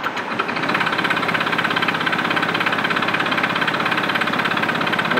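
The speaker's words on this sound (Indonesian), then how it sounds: "Kita coba nyalakan mesinnya." A car engine catches after a brief crank and settles into a loud, steady idle with an even rhythmic throb, close by and alone, during an engine scanner and charging test.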